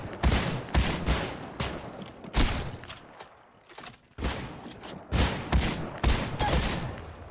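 Mastiff shotgun blasts in the video game Apex Legends Mobile, a string of loud, close booming shots in quick irregular bursts with a brief lull midway.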